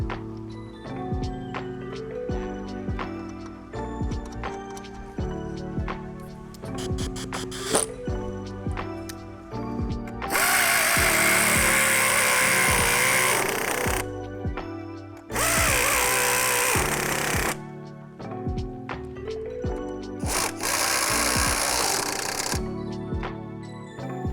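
Power tool bursts tightening front suspension bolts on a 2014-2017 Mercedes-Benz S550 AWD, with three loud, sustained whirring runs of several seconds each over a steady mechanical workshop background with ticking and clanks.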